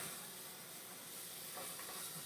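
Small onions frying in a pan for lasagna rolls, a steady quiet sizzle and hiss that stays even throughout with no talking.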